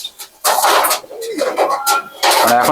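Prized pet pigeons coo and call in close, throaty bursts, several overlapping phrases rising and falling with short pauses between them.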